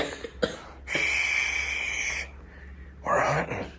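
A dog makes a few short, raspy coughs separated by pauses, with a wheezy, drawn-out breath in the middle, close and fairly quiet.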